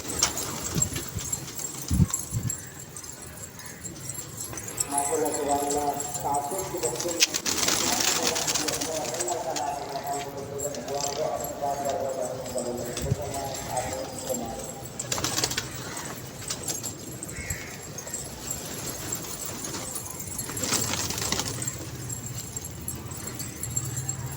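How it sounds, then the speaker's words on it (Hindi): Pigeons cooing in soft low murmurs under a person talking, with occasional fluttering and clinks in the background throughout. "बाकी ये कबूतर हैं।"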